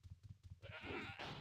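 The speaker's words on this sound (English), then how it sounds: "I'm going back over here to show you shearing a sheep." A sheep bleats in the Ultima Online Outlands video game, a single wavering bleat following a run of soft rhythmic low thumps, close and moderately quiet.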